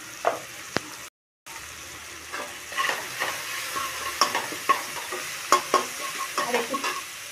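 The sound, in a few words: fish curry stirred and sizzling in oil, salt and turmeric added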